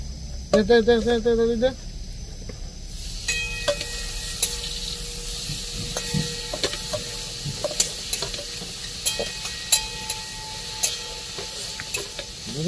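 Pointed gourd fries in hot oil with a steady sizzle and hiss while a utensil stirs and scrapes the pan, close up; a brief voice is heard at the start.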